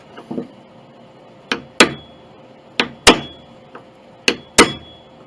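Parts are hammered into an 1881 Steinway Model A piano during a recrown, producing sharp wooden knocks in pairs: a lighter tap followed by a harder strike, repeated three times at even intervals.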